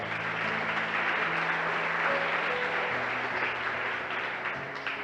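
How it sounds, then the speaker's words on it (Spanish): Loud, sustained applause from a church congregation clapping for the Lord, a dense, steady wash of clapping lasting throughout with faint tones underneath and no speech. "Dele un fuerte aplauso al Señor."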